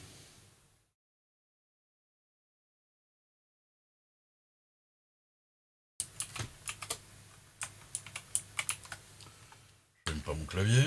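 Keys on a computer keyboard clack in quick, uneven bursts after a long silence, loud and close, with a short low sound near the end.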